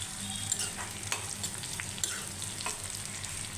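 Drumstick leaves and sesame are dry-roasted in a pan for a spice powder, with a soft, steady sizzle and occasional scraping stirs, fairly faint and close.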